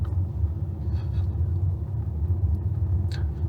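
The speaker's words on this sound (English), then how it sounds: "So the line of traffic is pulling into Williams." A line of traffic pulls into Williams at a junction near a bridge, a steady low rumble of car engines and tyres rolling past nearby with no break.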